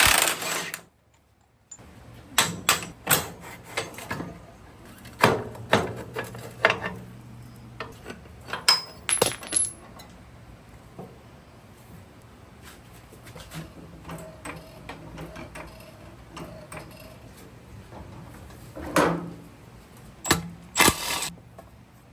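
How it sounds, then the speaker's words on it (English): Old swing arm being removed from a 2019 Suzuki GSXR-750 motorcycle, with a busy run of close metallic clanks, ratcheting clicks and tool taps scattered irregularly throughout, some louder knocks standing out, no voices. "it's time to get into removing the old swing arm"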